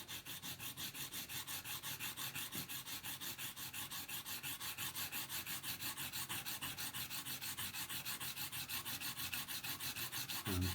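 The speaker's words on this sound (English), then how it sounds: "I'm going to sand this carefully, holding the vehicle straight." Rapid, even back-and-forth rasping of sandpaper on the windows of a Matchbox Morgan Plus 8 die-cast model car, a close rhythmic scrubbing that continues steadily throughout.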